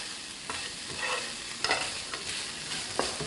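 Squid and chili peppers stir-frying in a pan, a continuous sizzle with intermittent scraping stirs of the spatula, close and steady with no talking.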